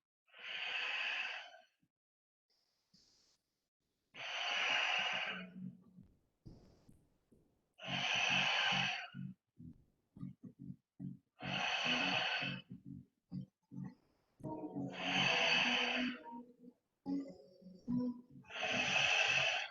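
During a Pilates leg exercise, someone takes breaths in and out in a slow, regular rhythm, each breath lasting a second or so and coming every few seconds, with some low voiced murmurs and faint sounds in between.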